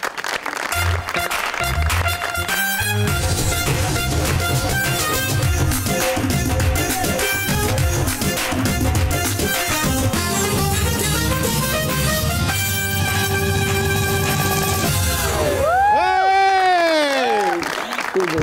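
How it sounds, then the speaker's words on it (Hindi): Studio audience at an Eid TV show applauding and cheering loudly with music playing throughout, ending in a rising sweep of sound, continuous and energetic. "प्लीज आपकी भरपूर तालियों में निगाह हुसैन एंड अरिश्मा"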